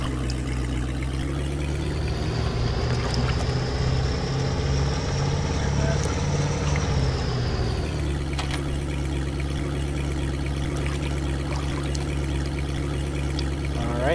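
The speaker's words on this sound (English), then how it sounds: "So let's go ahead and get the engine started." A boat engine idling at trolling speed in the fishing game Russian Fishing 4, a steady low droning hum with a rising whine that settles after about seven seconds, continuous and fairly loud with watery splashing texture throughout.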